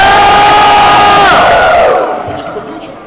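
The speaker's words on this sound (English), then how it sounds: "Joey takes the early lead and the crowd goes wild!" A crowd at a card duel erupts in wild cheering, a loud burst of shouts and yells that swells and then gradually fades away.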